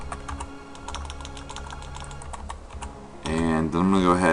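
Rapid keystrokes on a computer keyboard while entering C# code in Visual Studio 2010, a steady patter of clicks that ends in a louder voiced passage.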